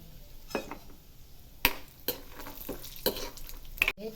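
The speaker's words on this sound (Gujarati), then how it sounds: "1 ચમચી તેલ એડ કરીશું। સિંગદાણા શેકીશું।" Peanuts roasting in a spoonful of oil in a pan for poha chivda, with a soft, steady sizzle punctuated by several sharp clicks and scrapes of a spoon stirring against the pan.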